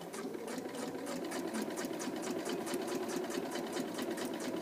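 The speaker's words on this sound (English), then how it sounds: "I'm sewing all the way up to the corner" A sewing machine stitches steadily toward the corner of a seam, its rapid needle chatter running in a fast, even mechanical rhythm, close and continuous with no pauses.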